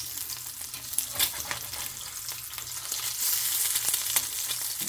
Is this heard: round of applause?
no